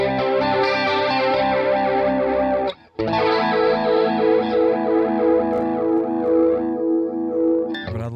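Electric guitar run through an Amplitube iOS chorus effect set for a smooth, Leslie-like swirl, sustained chords wavering steadily and loud, with one brief break near the middle before the shimmering tone resumes.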